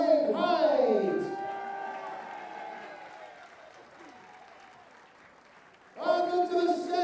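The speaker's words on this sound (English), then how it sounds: "Ladies and gentlemen, the Masters round of applause, first of all, for Lorraine Hyde." A darts world championship crowd applauds and cheers between matches in a hall. A loud opening burst fades to a softer patter, and a voice talks at the start and again at the end.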